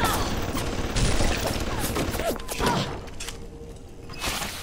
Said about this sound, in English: What are you shooting at now?